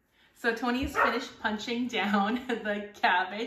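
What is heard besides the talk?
small dog barking and whimpering outside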